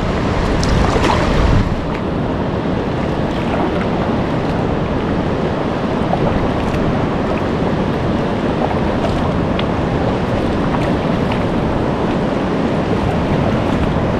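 Water from a waterfall rushes as a loud, continuous broadband roar, close and steady for the whole stretch, with wind buffeting the microphone and no voices.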